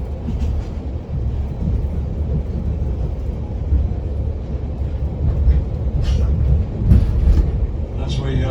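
A Dunedin Railways train rolls through the Taieri Gorge into a station, giving a steady, loud low rumble of wheels and carriages with a few sharp clanks near the end.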